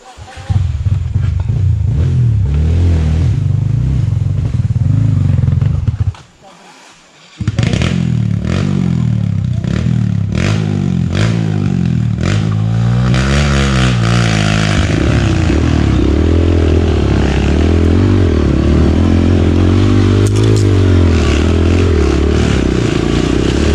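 Kawasaki KLX150L dirt bike with a burnt clutch on a mountain trail, its engine revving loud and close in repeated rising and falling bursts, with a short cut near the start and people talking over it.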